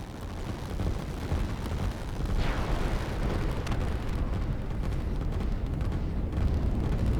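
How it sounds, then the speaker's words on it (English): A rocket strike explodes in the strategy video game Line War, a muffled boom under a continuous rumbling wash of game noise that stays steady to the end. "Here comes another rocket."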